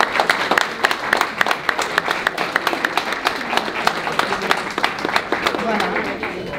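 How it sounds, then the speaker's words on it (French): Wedding guests clap together in a steady, lively round of applause, close and fairly loud, with sharp individual claps standing out from the crowd throughout. "Je vais les applaudir."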